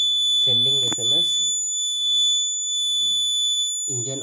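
An Arduino-based alcohol-detection engine lock sounds its alarm buzzer, a continuous piercing electronic tone that holds steady throughout while a person talks over it.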